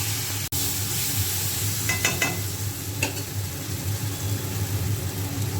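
Spices and tandoori chicken masala being stirred and sautéed in a hot pan, with a steady close sizzle, a sharp knock early on and a few scraping clinks of the spoon, no talking.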